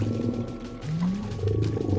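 Deep, growling roar of an angry whale in the video game LittleBigPlanet 3, rising and falling in a couple of drawn-out swells over a low rumble, with no voices over it.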